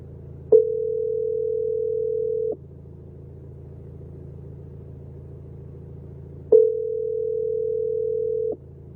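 Two long steady phone call tones, each about two seconds, sound over a low rumbling background, with a pause between them as a call connection fails to go through.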